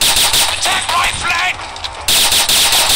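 Gunfire in the FPS shooting game Gun Games: loud, rapid bursts of automatic shots, close and punchy, broken by a brief lull before another burst resumes.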